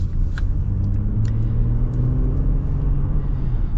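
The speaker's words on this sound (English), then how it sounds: "Good torque out of the V6, so I think that's nice" A 2024 Honda Pilot Elite's V6 pulls hard under acceleration, a loud, close, steady rumble from inside the cabin with the engine tone climbing gradually and no one talking.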